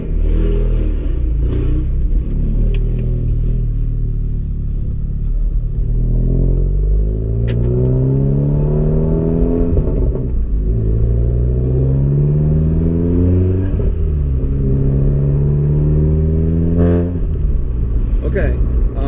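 A VW MK7 Golf R pulls hard through second, third and fourth gear, its engine note climbing in repeated rising sweeps that drop at each shift, heard from inside the cabin with someone talking over it.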